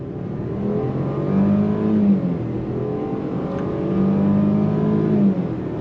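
A 2023 Range Rover Velar with a four-cylinder turbo engine accelerates on throttle, its steady engine drone rising in pitch through two surges, close and fairly loud with no talk.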